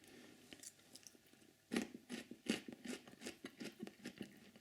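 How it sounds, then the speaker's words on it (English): A raw Jerusalem artichoke, brittle and juicy like a water chestnut, is crunched up close in a quick run of sharp bites and chews that grow louder partway through, with no talk. "that's me crunching one up raw"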